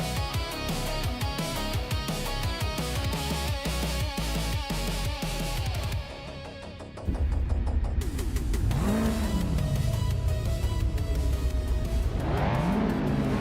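Engines of 1990 street cars racing in a video game at Adelaide, roaring loudly and continuously with rising and falling revs, gear changes and a car sweeping past close by.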